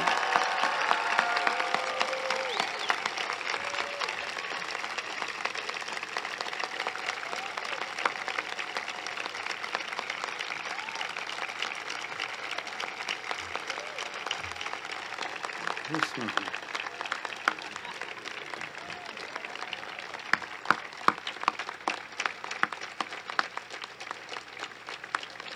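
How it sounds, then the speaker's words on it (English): Commencement audience applauding the graduating class of 2019 at Christ School, sustained crowd clapping filling the whole stretch, steady and dense, tapering slightly toward the end with a few sharper claps standing out. "a round of applause for the class of 2019"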